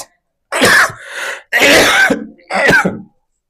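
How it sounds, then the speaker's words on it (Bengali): One person coughs and clears their throat in three harsh, loud bursts close up, separated by brief silences. "আমার কথা বলার চাইতে কাশির সাউন্ডটা তিন গুণ বেড়ে গেছে"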